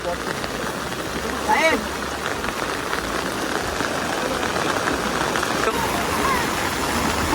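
Heavy monsoon rain in the Konkan, a dense, even hiss of downpour that stays loud and constant throughout, with a faint brief chirp and some background noise.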